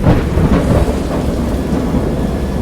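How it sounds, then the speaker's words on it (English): Rumbling thunderstorm at sea with continuous rain and low, rolling thunder, loud and steady throughout with no voices. "I have indistinct recollections of a great storm sometime after I reached the boat"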